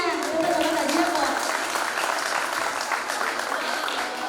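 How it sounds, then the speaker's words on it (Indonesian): Audience applause at a selection event, a dense burst of clapping that starts loud and slowly thins over a few seconds, with some voices mixed in. "Tepuk tangan saja kok."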